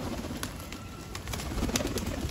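Pigeons coo in low, throaty bursts on a rooftop in Delhi with a busy, rustling background, several birds close by, plus a few sharp brief clicks.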